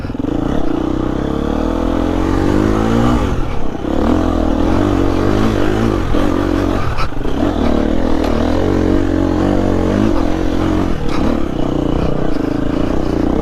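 Motocross motorcycle engine running steadily and loudly for the whole stretch, with a couple of brief revving surges and some clattering, no voices.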